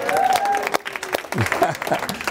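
An audience claps and cheers in a hall, a dense burst of applause with scattered shouts and whoops running throughout.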